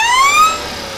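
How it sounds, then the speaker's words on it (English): An engine gives a brief rising whine that sweeps upward in pitch, loud and close, then fades out into a lower, quieter rumble after the throttle is released. "you hear the whine and then it just fires right up"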